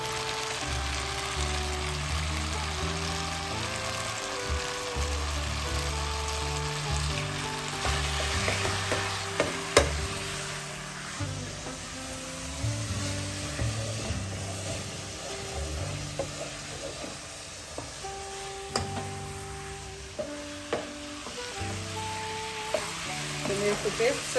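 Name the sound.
tomato paste frying and being stirred in a pot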